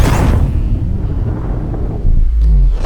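A loud, heavy remote bomb explosion in Call of Duty Advanced Warfare, a sustained low rumbling blast that swells again near the end, filling the clip close up.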